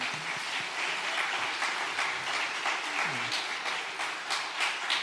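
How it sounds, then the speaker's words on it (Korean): Congregation applause during a Sunday worship service at a Korean church, a dense, steady patter of many hands clapping that holds at an even level from start to finish, with faint voices underneath. "박수 한번 합시다."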